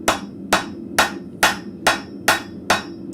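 A hammer strikes hot steel on the horn of an anvil while forging an arrowhead socket in a blacksmith shop, seven evenly spaced ringing blows, close and loud, with no talk.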